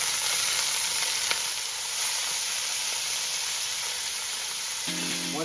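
Meat sears in a pot over medium-high to high heat, making a constant loud hissing sizzle with an occasional pop, and a brief tonal sound enters near the end.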